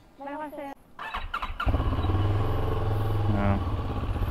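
CFMOTO CLX 700 motorcycle engine starting up and then idling steadily with a deep rumble, close by, after a few seconds of talking.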